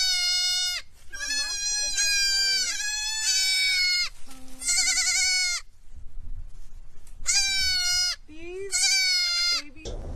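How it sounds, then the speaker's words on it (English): Baby goats bleat on a farm, several loud, close, quavering cries coming in bursts with short quiet gaps between them. "We have 27 baby goats."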